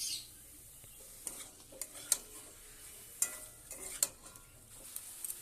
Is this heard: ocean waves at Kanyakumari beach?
no